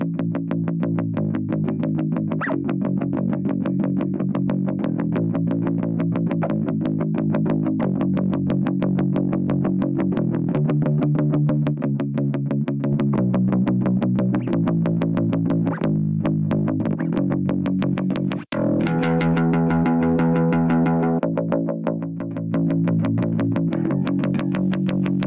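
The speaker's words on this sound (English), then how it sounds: "We've got the drive control here, which will increase the amount of harmonics." Bass guitar runs through a drive effect that adds harmonics, with its tone controls being adjusted, playing a steady, loud, continuous line. Near the end a brief dropout comes before a brighter, grittier passage.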